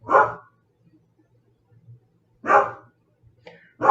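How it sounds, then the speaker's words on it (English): An indoor dog barks sharply three times at spaced intervals, fairly close, with quiet pauses and faint background noise between barks. "Whether or not he will keep barking"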